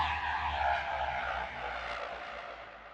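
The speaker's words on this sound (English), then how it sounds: "Oh, this one is also nice. It's this spaceship thing. So this is something for a sci-fi movie." Synthesized sci-fi spaceship effect from a Rob Papen Predator-3 synthesizer: a steady, airy engine-like roar with a broad hiss that slowly sweeps and thins, resembling a distant aircraft passing, with no voices.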